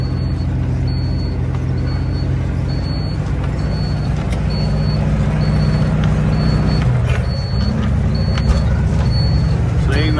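A truck hauling big square bales of haygrazer hay drives through sand, its engine droning loud and steady throughout, with a faint repeating beep behind it.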